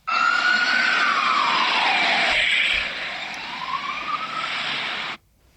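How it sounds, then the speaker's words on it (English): An ambulance siren wails loudly and steadily, its pitch sweeping down and up again with an engine beneath, then cutting off abruptly. "Is that an ambulance"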